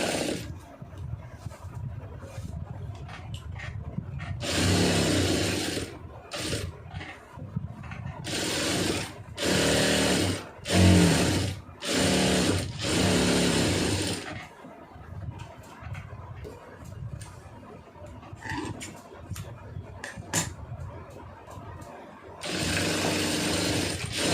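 Sewing machine stitching a lining blouse in bursts of running, with rapid mechanical rattle separated by short pauses, fairly close and steady.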